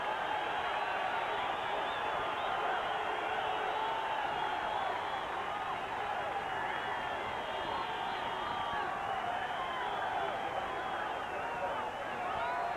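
A stadium crowd at a 1991 WLAF football game, Barcelona Dragons at San Antonio Riders, keeps up a dense, steady roar after a quarterback sack, with faint talk mixed into the din.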